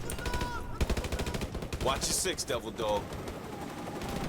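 Rapid bursts of gunfire from the Call of Duty Modern Warfare Remastered video game, dense repeated shots with a sharp louder blast mid-way, running continuously under faint background voice.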